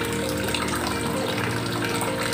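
Aquarium power head filter pushing out water with reduced flow, part of it escaping through the bubble hole; a steady, close gushing and splashing rush of water runs throughout, with no talk.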